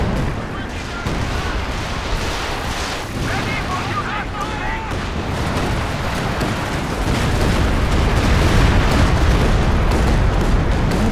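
Artillery shells explode in a Company of Heroes 2 World War II strategy battle, a continuous rumble of booms and blasts under steady battle noise, with a commentator speaking over it.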